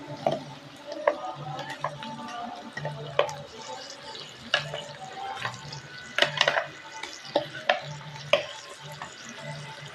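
Kakarakaya ulli karam cooking: a paste tipped into hot oil fries with a soft, close sizzle. A spoon scrapes and clatters in irregular bursts as it is stirred, and faint water drips are heard.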